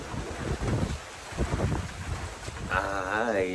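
Gusty wind buffets the microphone outdoors on a cold, rainy day at a grill spot, rising and falling in bursts, with a brief tonal whine near the end.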